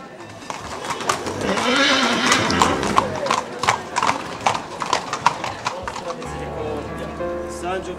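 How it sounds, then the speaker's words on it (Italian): Horses' hooves clip-clop steadily on pavement in a religious procession honoring a saint in Cuglieri, loud and close, mixed with pigeons cooing, a horse's whinny and crowd voices. "I cavalli accompagnano il santo per tutto il tragitto"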